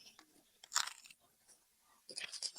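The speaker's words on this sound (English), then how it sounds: "The crunch is nice." A large crunchy dumpling is bitten and chewed at a Shanghai food spot, with two bursts of close, crisp crunching separated by quieter chewing and faint background voices.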